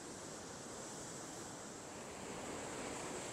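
Surf breaking hard against the shore in front of El Morro, a steady loud roar of churning water with a faint wind hiss over the microphone, no voices.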